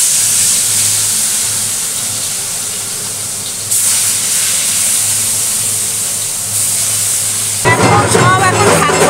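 Fish sizzles as it drops into hot oil in a home kitchen, a steady loud hiss and crackle that swells with a burst of sharper spattering near the end, with festival noise from outside behind it.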